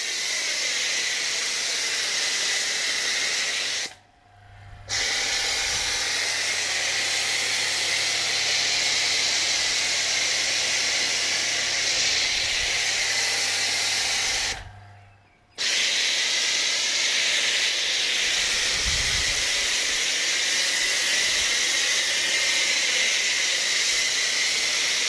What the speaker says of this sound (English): it's safe to snow foam a wrapped car